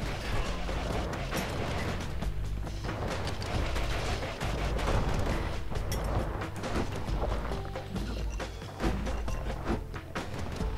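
Heavy gunfire from big guns in the video game Bastion, a dense, continuous barrage of booming and mechanical clattering that stays loud throughout with no voices.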